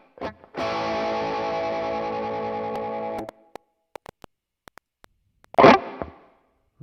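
High-gain distorted electric guitar through a Neural DSP Morgan amp plugin, one sustained saturated chord ringing about three seconds before being choked, followed by faint muted string clicks and a short burst of noisy picking.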